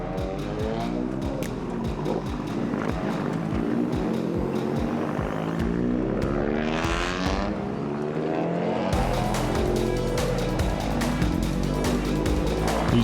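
Toyota GR Cup race cars circulate on track, their engines roaring steadily throughout with revving, passing and a sharp rise in loudness near the end, with no talking.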